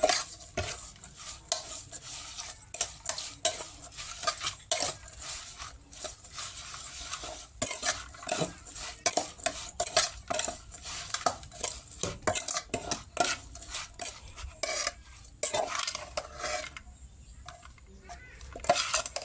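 A spoon or utensil stirs and clinks against a bowl as shrimp salad is mixed with roasted rice, ground chili, seasoning powder and fish sauce, with irregular close scraping and tapping strokes throughout.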